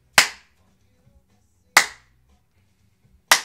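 Three slow, crisp group claps spaced about a second and a half apart during a Simon Says–style music game, each a sharp burst followed by near silence.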